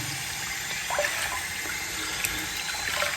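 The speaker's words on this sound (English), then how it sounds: "So the brush is rinsed out." Shaving brush rinsed under a running tap, a steady hissing stream of water splashing and gurgling close by, continuous and moderately loud with small spatters throughout.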